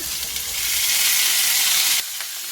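Cut broad beans drop into hot oil with cumin seeds in a pan, setting off a loud, bright hissing sizzle that swells, holds steady, then drops sharply to a quieter sizzle.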